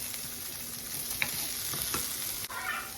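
Sausage sizzles and crackles steadily as it browns to a crust in a pan, with a few louder scraping stirs from a utensil; close and fairly quiet, no talking.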